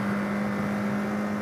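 Motorcycle engine held in first gear through winding road curves, a steady droning hum with a strong constant tone and no clear revving changes, close and continuous with no talk.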